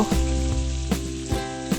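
Beef pieces sizzle and fry in a pan for a spicy Bengali beef bhuna, a steady close crackling hiss with a few soft stirring knocks and scrapes, no voices.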